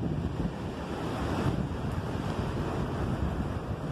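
Wind gusting during a night drive home from work, a steady broadband rush with no pauses, like wind buffeting the microphone, moderately loud and unbroken with no voices.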